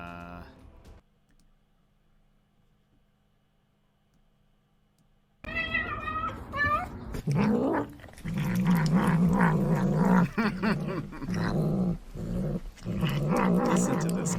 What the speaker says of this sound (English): Listen to this cat.